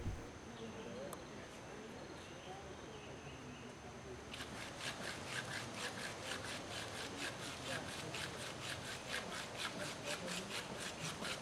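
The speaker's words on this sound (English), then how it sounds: "Sawing through this stone temple ornament with only a handsaw" Steady, rhythmic back-and-forth handsaw strokes cutting through a stone temple ornament, close and fairly loud, grinding on without pause against a faint outdoor background.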